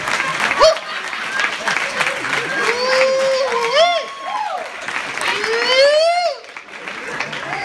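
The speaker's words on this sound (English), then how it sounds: "Will you clap that these marriages are still intact?" An audience applauds and cheers at a live show, with loud steady clapping, whistles and shouts, and a voice speaking over the crowd.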